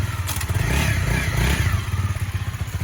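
A 2018 Honda CRF 250 Rally motorcycle being ridden rumbles with a low, pulsing engine note and some rattling and clatter, heard close and continuous without talk.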